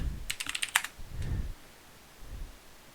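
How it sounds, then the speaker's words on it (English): Rapid clicks of computer keys being typed, a quick burst of several keystrokes followed by a few slower, softer taps, close and fairly quiet in an otherwise still room. "He typing."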